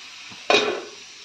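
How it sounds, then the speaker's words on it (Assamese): Food sizzles in a pan on a home gas stove while a gravy-style dish is cooked, a steady soft hiss broken by one sudden louder clattering burst that fades quickly. "এইখিনি মই ৰঙচুৱাকৈ আচলতে ভাজি লৈছোঁ"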